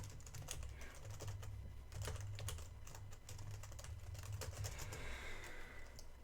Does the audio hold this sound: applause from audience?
no